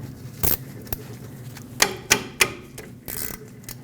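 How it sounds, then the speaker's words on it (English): Sharp metallic clicks and clanks from a 14mm socket wrench working the two brake caliper bolts loose on a 2005-2021 Nissan Frontier's rear brakes, several close, loud hits at uneven intervals. "Use a 14mm socket or wrench, remove the 2 bolts holding the caliper onto its bracket"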